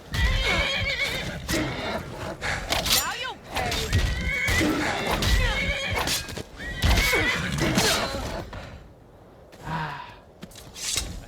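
Horse in the video game Skyrim whinnying loudly and repeatedly, with snorts and hoof clip-clops in a busy game soundscape, and sporadic voices over it.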